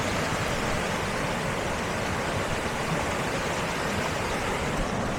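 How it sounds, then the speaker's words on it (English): Constant rushing of a waterfall or large river heard from a mountain hiking path in Spain, an even broadband roar that holds steady at moderate distance throughout, with no voices. "I can hear it's either a waterfall or a big river"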